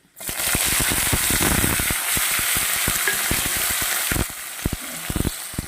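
Onion and tomato hitting hot oil with whole garlic cloves in a pan for an aloo-potol prawn mash, a loud steady sizzle with spatula knocks and scrapes throughout, easing slightly near the end.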